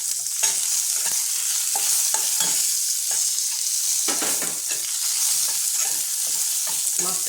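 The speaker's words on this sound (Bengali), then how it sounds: "মাছটা আমটা একটু সাঁতলে নেব" Fish pieces and raw mango sauté in hot oil in a pan, giving a steady close sizzle broken by scraping stirs at irregular intervals.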